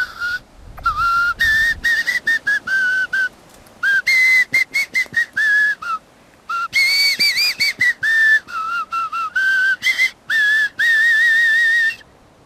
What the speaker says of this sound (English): The first is what is known as cupule whistling.